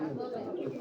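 High-grade pigeons coo close by in a low, continuous murmur that fills the whole moment without a break.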